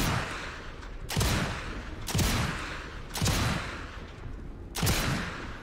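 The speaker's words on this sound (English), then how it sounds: "so just firing quickly there to see that" Rapid rifle fire in the video game Sniper Elite 5: four loud, sharp shots, each trailing off with a booming echo, spaced about a second apart.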